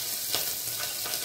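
Whole spices, asafoetida, and red and green chillies frying in oil for val khichdi, a brief, even hiss of sizzling with a couple of soft stirring strokes, close and moderately loud.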